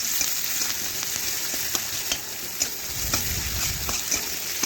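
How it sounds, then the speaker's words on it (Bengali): Onions fry in a pan for a Bengali katla fish curry with potato and eggplant, giving a steady close sizzle with occasional clicks of stirring throughout. "পেঁয়াজগুলো লাল করে একটু ভেজে নিচ্ছি"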